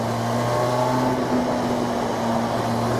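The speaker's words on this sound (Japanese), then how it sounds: "経験豊富な方は分かると思いますが、ちょっと3気筒っぽい音ですよね" A Harley-Davidson X350 motorcycle pulling in second gear with a three-cylinder-like engine note, a steady, moderately loud hum with little change in pitch.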